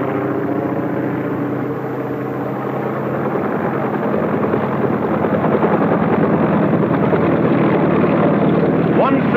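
Helicopters flying during the Ivy nuclear test operation: a steady, loud rotor and engine drone that holds throughout with no clear pauses or changes in level.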